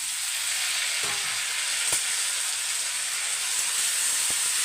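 Onions, tomatoes, tamarind and salt sauté in a pan with a steady, close frying sizzle and a soft hiss that runs the whole time, plus a few faint clicks of a spoon. No one speaks.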